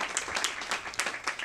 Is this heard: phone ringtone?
no